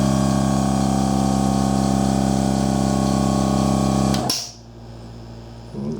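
Milwaukee M18 Fuel cordless air compressor running with a steady loud motor hum and drone for about four seconds, then abruptly shutting off into a quiet hiss and faint low background noise.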